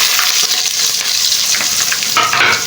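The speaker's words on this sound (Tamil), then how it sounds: "வெங்காயம் தாளிக்கலாம்." Loud, steady sizzling of onions frying in hot oil with curry leaves for sambar, a dense crackling hiss with occasional stirring scrapes, close up and continuous.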